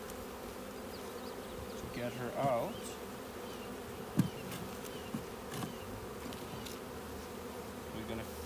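A steady, dense hum of many honey bees buzzing close by during a backyard package install, with a brief voice speaking quietly over it.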